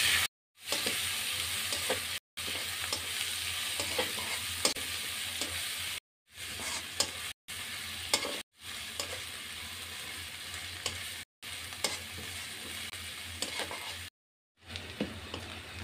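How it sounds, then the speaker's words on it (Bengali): Chopped onions and two bay leaves fry in hot mustard oil in a wok for a yogurt fish curry, a steady close sizzle with stirring scrapes, broken by several brief silent gaps. "তেল গরম হয়েছে, দেব 2টে তেজপাতা, পেঁয়াজ কুচি। আমি এখন পেঁয়াজগুলো লাল লাল করে ভেজে নেব।"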